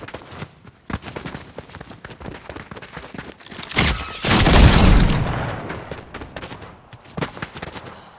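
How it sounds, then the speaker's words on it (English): Shotgun and other gunfire in the Fortnite video game, a dense run of sharp blasts with a heavier booming stretch in the middle, loud and close. "Shotgun time."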